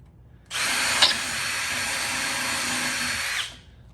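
A power drill runs steadily for about three seconds, driving screws into fireplace boards, starting abruptly and winding down at the end, close and loud with no talk.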